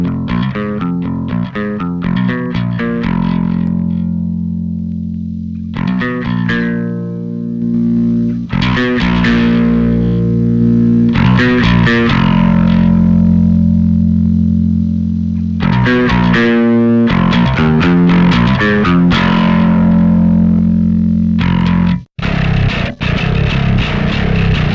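A bass guitar plays through a Darkglass Microtubes B7K patch on a Fractal AX8 with heavy distortion. It is loud and gritty, with runs of picked notes and sustained low tones, and brief pauses between phrases.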